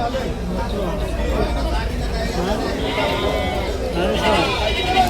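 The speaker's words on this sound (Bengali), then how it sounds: "এই পাশে হচ্ছে যে ছোট জাতের যে পাঁটি ছাগলগুলো রয়েছে" Goats, including small breeds and young does, bleat repeatedly amid a busy livestock market, with steady crowd chatter and voices throughout.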